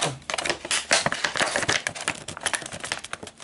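Scissors snip and crackle through a Pokémon deck's plastic blister packaging, a quick run of close, sharp cutting and crinkling sounds without talk.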